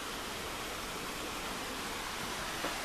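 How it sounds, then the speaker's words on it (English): Steady broadband rush of creek water flowing beneath an old bridge on the Six Penny trail at French Creek, Pennsylvania, a continuous even wash with no voices. "It's a beautiful little creek."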